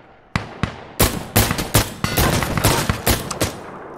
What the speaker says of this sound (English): We took heavy fire.